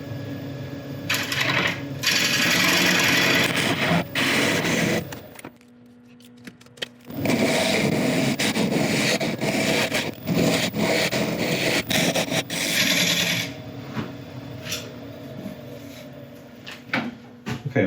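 A woodturning lathe cuts a recess into an open-grained oak burl, with a loud, close scraping and rasping of the tool against the spinning wood, interrupted by a short quieter pause before cutting resumes and trails off.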